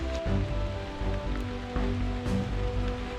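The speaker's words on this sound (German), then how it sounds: "Heute bei Regenwetter." Steady rain falls beside the Lech river, a broad, even hiss of drops close by with low rushing water underneath, no voices.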